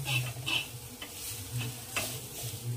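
Fried green chillies are stirred in a pan over a soft sizzle, with several distinct spoon scrapes and clinks at an uneven rhythm, close but fairly quiet, and nobody speaking.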